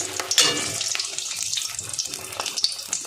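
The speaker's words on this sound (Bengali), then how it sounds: "দেখুন কত সুন্দর ভাজা হচ্ছে।" A vegetable chop made with Maggi noodles and egg frying in hot oil, a soft, hissing sizzle with scattered crackles and a few sharp pops.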